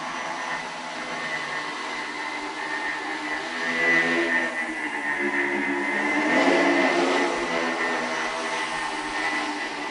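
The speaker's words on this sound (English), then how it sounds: "When you put them together, they behave like one high-performance quadricopter." Two linked propeller flying machines hover together as one quadricopter, giving a steady, close, droning whir of spinning rotors that swells around the middle and stays continuous throughout.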